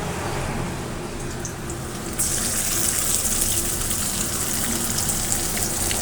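Garlic, cumin and green chilli paste sizzles loudly in hot oil, a steady broadband hiss that jumps sharply louder partway through as the paste goes in, then holds without letting up.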